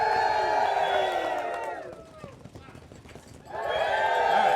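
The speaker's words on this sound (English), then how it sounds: "you're gonna clap and cheer and hoot and holler." Comedy show audience rehearsing on cue, clapping, cheering and drumming on their seats in a rumbling burst of crowd noise between stretches of a host talking.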